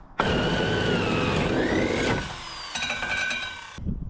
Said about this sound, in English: We just found this old electric drill that Bryn's dad's got, so we're going to try